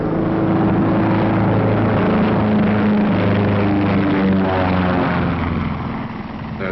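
A four-engine Flying Fortress propeller bomber drones loudly and steadily throughout, its engines producing a dense, continuous roar that fades slightly near the end.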